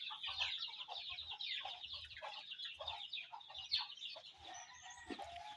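Pet chickens clucking in a yard, a faint, busy chorus of overlapping clucks and chatter with soft low thumps in between, heard from a little distance.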